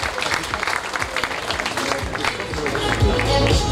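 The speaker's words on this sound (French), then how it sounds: "je voudrais qu'on applaudisse comme vous savez le faire" Crowd at a cycling stage podium ceremony in the Landes applauds loudly and steadily, dense clapping filling the whole stretch with faint voices and cheers mixed in.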